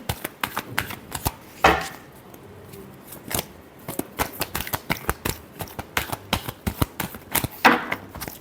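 Tarot cards being shuffled by hand, a run of crisp riffling bursts and soft slaps repeating irregularly, close and clear, with no voices.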